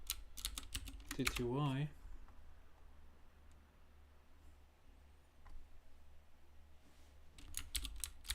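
Typing on a computer keyboard in a Linux terminal, heard as bursts of quick, close clicking keystrokes at the start and again near the end, with someone speaking briefly between them over a quiet room hum.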